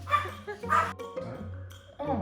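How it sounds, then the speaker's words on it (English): A dog runs around letting out a few sharp, loud barks in short bursts, with people talking nearby and a low steady hum underneath. "That's his job for the day, just running around barking."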